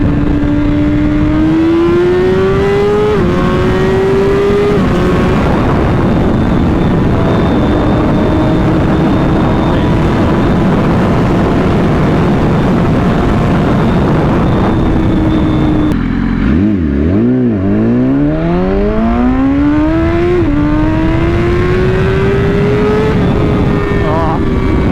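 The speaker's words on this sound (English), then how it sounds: "Wasn't even a full throttle pull again because the downhill slope was making it want to wheelie up" A BMW S1000RR sport bike is ridden hard on a downhill slope under heavy throttle, its engine note rising in loud, sustained pulls with a gear change partway through and constant wind rush throughout.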